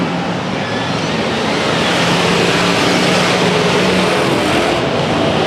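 A pack of race cars roars out of a turn at Madera Speedway during a 100-lap enduro, a loud, continuous wash of engine noise blending into a steady roar with no break.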